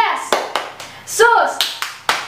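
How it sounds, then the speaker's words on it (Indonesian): A group of youths at a church service clap hands in a rhythmic pattern, sharp close claps spaced in a call-and-response beat, with a voice calling out in between. "Tepuk Yesus."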